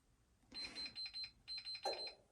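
A quiet Dimplex electric heater switching on gives a series of short beeping tones in two quick groups, ending with a slightly louder click-like pop.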